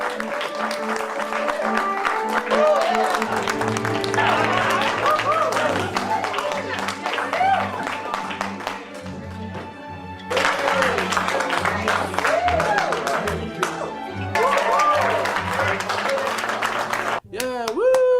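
A movie's clapping scene, with crowd applause and clapping running under music for most of the stretch. It is loud and continuous, briefly thinning out before swelling again, with some voices mixed in.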